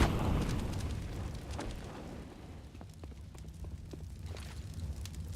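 A Molotov burns in a Counter-Strike match with a loud whooshing ignition at the start, settling into a steady crackling roar of flames while faint footsteps and small clicks patter beneath.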